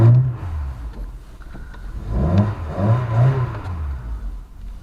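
A Ford Cortina's engine hums and revs gently in a tight garage while being parked, with low rumbling surges rising and easing over a few seconds.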